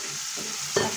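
Dried fenugreek and amchur tadka sizzling and being stirred in a pan for masoor dal, a steady hiss with a sharper burst of spatter near the end, close and alone.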